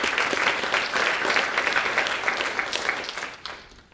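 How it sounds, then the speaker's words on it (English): Audience applause at a keynote speech for an internet sales group in Los Angeles, a dense, steady clapping that fills the room and then tapers off at the end. "Can I get a round of applause for that?"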